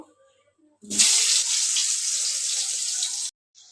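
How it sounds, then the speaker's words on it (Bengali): Potato pieces go into hot white oil with a sudden splashy burst, then a loud, even hiss that runs for over two seconds before stopping abruptly. "আলুগুলোকে লাল লাল করে ভেজে নেব"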